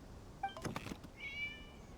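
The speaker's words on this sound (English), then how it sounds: "It was just a cat." A cat meows twice in Genshin Impact, a short high mew followed by a longer, drawn-out call, close and soft, with a brief thump between them.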